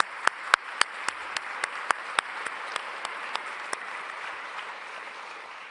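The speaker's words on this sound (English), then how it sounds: "Please give her an applause." Applause at a security summit in Oslo: a modest crowd clapping in scattered, distinct claps, fairly sparse and gradually thinning out, with no one talking over it.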